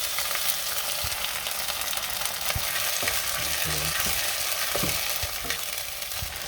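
Onions and sardines frying in a pan for ginisang sardinas, a steady loud sizzle running throughout with repeated scraping strokes of a utensil stirring against the pan.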